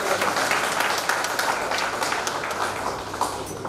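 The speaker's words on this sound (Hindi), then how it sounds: "आप जोरदार ताली बजा रहे हैं।" An audience at a farewell gathering for municipal officials in Udaipur claps vigorously, a dense continuous patter of many hands, fairly close and steady, with no talking over it.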